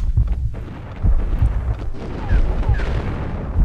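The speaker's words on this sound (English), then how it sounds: "Love the slow motion sound of the deagle." A slow-motion Desert Eagle gunshot from the Max Payne video game, a deep, drawn-out booming report with low rumbling tails that repeats at a slow, stretched pace and stays loud in the foreground with no talk.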